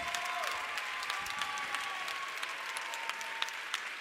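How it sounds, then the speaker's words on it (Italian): An audience applauds after a contemporary dance performance at a theatre show. The clapping is steady and moderate, sustained by a crowd, with a faint tone running beneath it. "anche voi con i vostri applausi"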